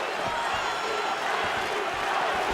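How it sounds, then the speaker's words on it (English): Arena crowd noise from a UFC 4 fight simulation between Jones and Adesanya, a steady dense roar of cheering that holds loud and unbroken throughout with no clear peaks. "Crowd fired up, so are we."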